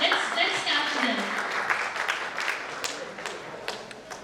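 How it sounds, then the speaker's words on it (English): Wedding reception guests applaud the couple in a hall, a steady wash of clapping with a few sharper nearby claps, a murmur of voices underneath. "Let's clap for them."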